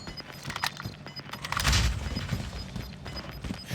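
A frag grenade goes off in Call of Duty: Warzone, a deep booming blast that swells mid-clip over a busy bed of clattering gunfire and mechanical game noise.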